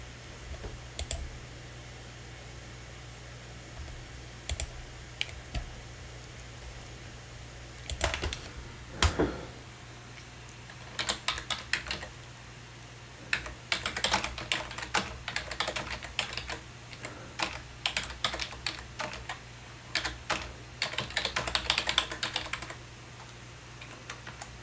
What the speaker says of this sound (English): Typing over here.